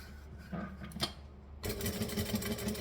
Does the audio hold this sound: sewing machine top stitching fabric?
yes